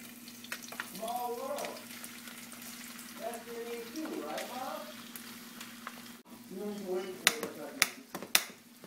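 Tuna and garlic fry in a pan with a soft, quiet sizzle, faint beneath a voice as he talks over the cooking.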